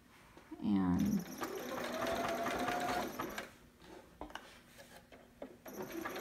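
A sewing machine runs a steady zigzag stitch on a romper, with a fast, even mechanical whir that holds for a couple of seconds before easing into lighter stops and starts. A short voice-like sound comes at the start.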